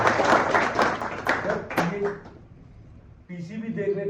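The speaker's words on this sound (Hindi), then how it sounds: "ताली बजा दी गई" Brief burst of clapping in a classroom, a few seconds of applause that dies away, then quiet and a voice speaking.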